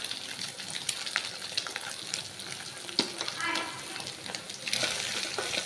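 Fresh bottle gourd greens fry with salt in a pan, giving a steady close sizzle with scattered stirring scrapes and soft clicks.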